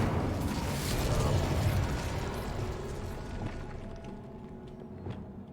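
Incendio fire spell from Hogwarts Legacy bursting in a loud, broad roaring blast that swells in the first seconds and then slowly decays amid rumbling debris, with a few small pops near the end.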